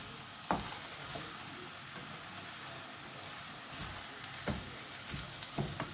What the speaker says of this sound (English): Alright, this meat is cooking nice